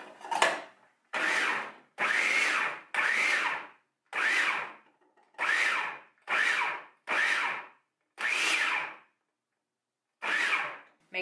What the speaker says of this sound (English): The Hamilton Beach did a decent job of chopping the onions.